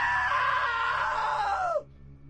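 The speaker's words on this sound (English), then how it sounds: "Now that was a great scream." One loud, sustained scream held for nearly two seconds, falling in pitch before cutting off abruptly into near silence.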